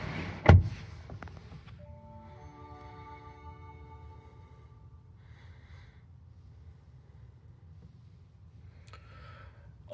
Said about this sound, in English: then of course we do have our power windows